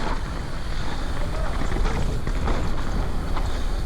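Strong wind buffets the microphone at a mountain bike hardline track, a loud, continuous broadband roar with gusty surges throughout.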